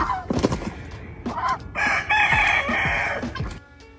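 A rooster crows loudly and close by, one long drawn-out call, with scattered clucks and short bird noises around it.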